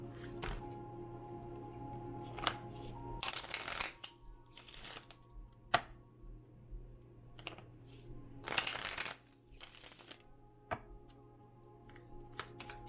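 Gypsy Oracle cards are shuffled in soft, scattered riffles and rustles, with several brief louder bursts of card noise between quieter handling sounds, close and faint, without any talk.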